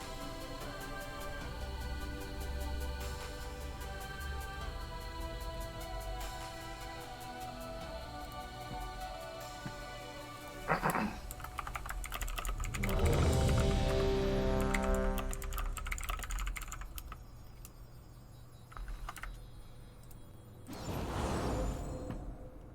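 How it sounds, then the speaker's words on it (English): Quiet computer-keyboard typing clicks sit faintly beneath steady fantasy-game music during a guild raid, with no talking. "are you typing that"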